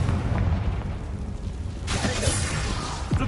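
A Confringo blast curse exploding in the game Hogwarts Legacy, a loud rumbling burst that flares up midway over a constant noisy game background.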